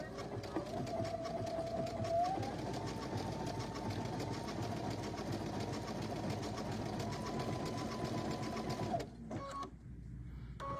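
A sewing machine runs steadily at close range, its needle hammering in a fast even rhythm for several seconds while stitching and pivoting around a corner, then slowing and stopping near the end.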